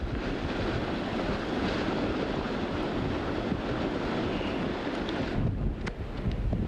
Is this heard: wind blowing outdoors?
yes